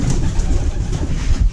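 Pigeon chicks that have grown big coo nearby, soft, low, throaty murmurs in a short burst, fairly loud and close, with no talking.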